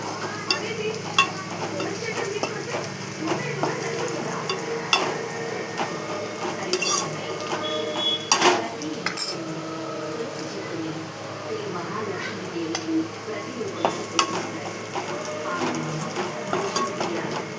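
Crushed onion paste frying slowly in oil on low heat, a soft steady sizzle under repeated scraping and clinking of a spoon against the pan, with a person talking over it.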